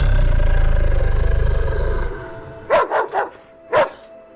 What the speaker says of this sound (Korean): 어느새 부부를 따라온 개가 사나운 이빨을 드러내며 부부를 향해 짖기